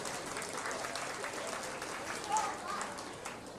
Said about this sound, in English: Let's go ahead and give them all a round of applause.